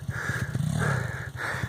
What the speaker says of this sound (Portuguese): E a moto dele é preparada.